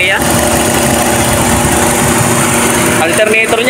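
Kia Sonet engine running close by, a steady broadband drone with a low rumble and continuous whine, holding constant throughout.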